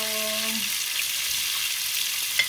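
Steady, dense sizzle of fish frying in hot oil in a pan, close and continuous, with a brief low tone fading early and a small clink near the end.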